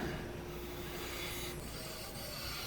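Wood lathe spinning at about 2,500 rpm while a spindle gouge cuts a lidded box blank, giving a continuous close scraping, rasping hiss with a steady drone beneath and no voices.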